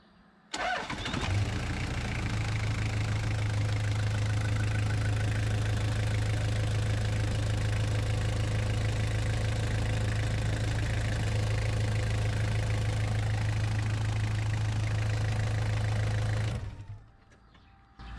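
A Toyota Prado 1KZ-TE diesel engine cranks, starts and idles after a fuel filter change, a steady low rumble with a faint clattering knock that runs evenly for about fifteen seconds, then shuts off.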